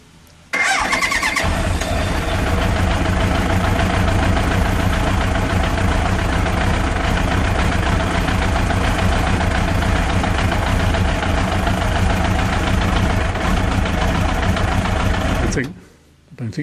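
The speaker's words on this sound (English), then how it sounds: "let's just spin the bike over, make sure the oil light goes out" A motorcycle engine is cranked over and keeps running after an oil change, a loud, steady mechanical drone that lasts about fifteen seconds with no talk over it before it cuts off.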